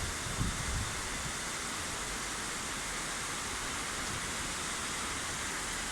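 Heavy rain pours down at night over London, a dense, steady hiss that stays loud and unbroken from start to finish, with no voices heard.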